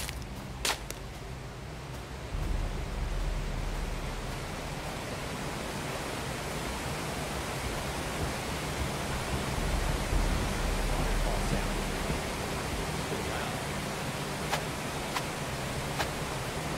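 A waterfall in a soulslike fantasy game roars as a steady, dense wash of broadband rushing water, loud and unbroken for the whole stretch, with a few faint sharp ticks on top.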